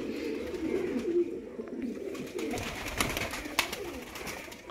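A pigeon coos steadily in low, throaty rolls, fairly close, with faint rustling and a few light clicks in the background.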